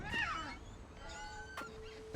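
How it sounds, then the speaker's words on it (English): A cat meows in the video game What Remains of Edith Finch: one short, rising-and-falling cry near the start, then a quieter tonal call, over a soft game ambience. "That was a cat."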